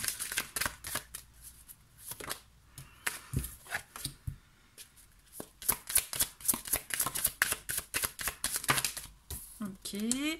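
Tarot cards shuffled and dealt out during a Gemini reading, with a rapid run of crisp riffling and slapping card snaps that come close and fairly loud in uneven bursts across the whole stretch.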